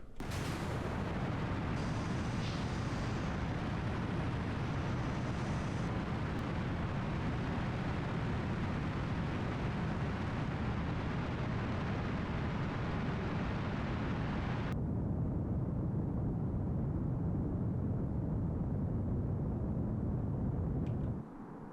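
A rocket in Kerbal Space Program launches at near full throttle, giving a loud, continuous roaring rumble that holds steady for over twenty seconds, its upper hiss dropping away partway through.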